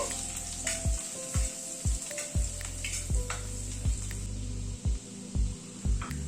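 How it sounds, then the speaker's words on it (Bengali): Chopped garlic sizzling in butter over a medium gas flame, a bright continuous frying hiss punctuated by regular low thuds and scrapes of stirring, close and fairly loud, with no one speaking. "গ্যাসের ফ্লেমটাকে মিডিয়ামে করে রেখে রসুনটাকে হালকা করে ব্রাউন করে নেব।"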